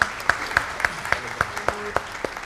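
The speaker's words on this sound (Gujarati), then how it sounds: "જેના માટે બે વાર તાળી પાડવી પડશે" An audience at a Gujarati poetry event claps for poet Ramesh Parekh in a slow, even rhythm, each sharp clap clearly spaced and fairly close.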